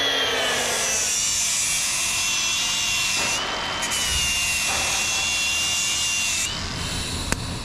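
Unistrut rollers being trimmed down in a workshop with a power tool, a steady loud grinding and cutting roar with a whining tone that shifts slightly as the blade bites, continuous and close.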